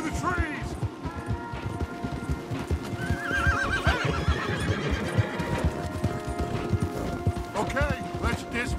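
Several horses gallop and whinny in Red Dead Redemption 2, hooves pounding steadily with loud neighs rising over the rumble while people talk and shout over it.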